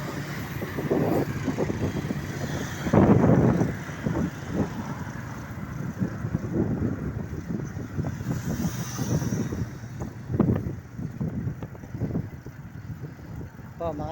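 Steady roadside roar of passing traffic and gusting wind on the Baliwag Bulacan Highway, a loud, continuous broadband rumble with louder surges as vehicles go by, while someone talks over it.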